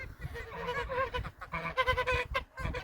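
Busy chatter of fowl nearby: high peeping from ducklings mixed with clucking and honk-like calls from silkie chickens, continuous and fairly loud.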